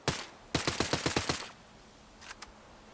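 SN-9mm submachine gun in Ghost Recon Breakpoint: one opening shot, then a quick full-auto burst of about eight crisp rounds, followed by a couple of faint trailing clicks.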